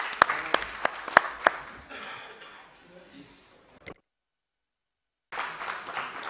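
At a Mauritanian football federation general assembly, a few sharp, separate hand claps ring out close by. Speech and murmuring follow, then a brief silence before sound resumes.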